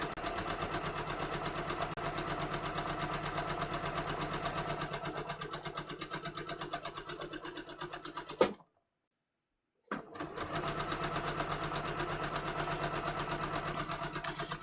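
A sewing machine stitches steadily along the edge of a welt pocket, a close, even mechanical whir that cuts out briefly to silence, then resumes at the same pace.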